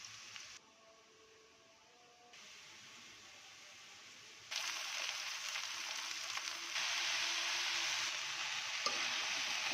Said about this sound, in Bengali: হয়ে গেছে, এখন শাক তেলে দিব।